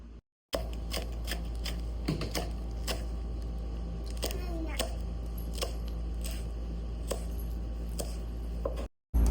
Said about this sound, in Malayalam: ഇനി നമുക്ക് പച്ചമുളക് കട്ട് ചെയ്യാം